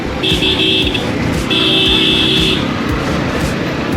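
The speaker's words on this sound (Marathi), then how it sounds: "हॉर्न बघा, हॉर्नमध्येच मजा आहे" A TVS scooter horn honks twice, one short and one longer, each a steady bright tone over a constant background hum.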